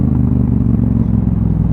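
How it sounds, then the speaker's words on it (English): A Triumph Bobber 1200cc motorcycle engine idling loudly and close by, with a steady deep rumble and a fast even throb throughout. "But the engine noise is absolutely lovely."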